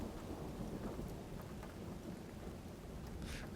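Steady heavy rain falls continuously during a thunderstorm, with low, rolling thunder rumbling beneath it as the storm moves away. No voices are heard.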